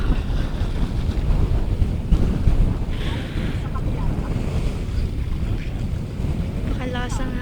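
Strong wind blowing by flooded water near the sea, buffeting the microphone in steady gusts over a continuous rushing wash, with a brief faint voice near the end.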